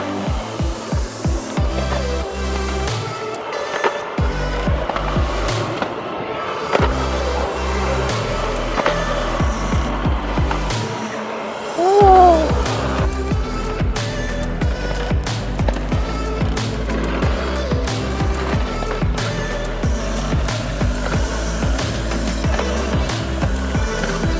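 Huge-wheeled summer snowboard-style longboard rolling over gravel and rough rock on a road toward Keystone ski resort, a loud continuous gritty rumble with steady clacks and bumps throughout, close up and with no voices.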